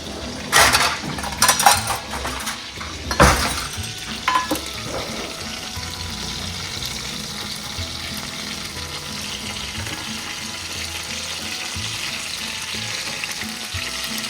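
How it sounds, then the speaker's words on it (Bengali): Popcorn chicken nuggets frying in a pan, a steady close sizzle running throughout, punctuated early by a few sharp clinks and scrapes of a utensil against the pan. "সেই নাগেটস ভেজে দিলাম"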